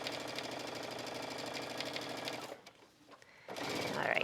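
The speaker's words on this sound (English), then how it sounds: "we're going to add a touch of top stitching there" A sewing machine runs fast and steady while top stitching a seam on a denim shirt dress, a close, even mechanical whir that drops out briefly near the end before starting again.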